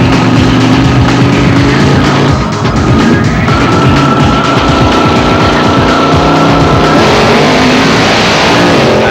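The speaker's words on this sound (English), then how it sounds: "Feel what it is like to pull it down the drag strip on 4 wheels." Class A dragster on a drag strip at WesBank Raceway, a loud, continuous engine roar under hard acceleration with rising pitch through the whole run, close and dominating, no talk.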